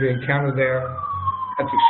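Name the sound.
emergency vehicle siren in New York street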